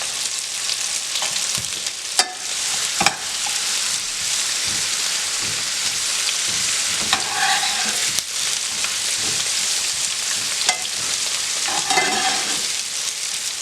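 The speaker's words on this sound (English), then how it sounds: "I'm going to let that fry" Food frying in a pan with lemon pepper and Italian seasoning, sausage nearby, a steady broadband sizzle running throughout with occasional stirring scrapes and brief crackling bursts, no talk.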